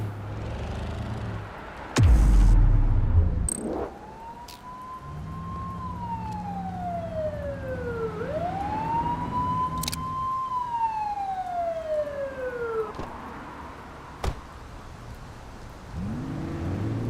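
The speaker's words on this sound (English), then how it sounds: "You're only meant to use the siren in emergencies." A police car siren wails in a video game, rising and falling in long sweeping tones over a steady vehicle hum, with a couple of loud bursts of game effects and no talking.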